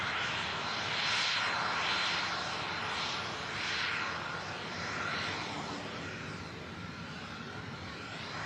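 Aircraft engines drone at Manchester Airport as a plane taxis and an Airbus A380 passes, a broad, steady jet roar with gently swelling and fading waves of whine, moderately distant and heard without talk.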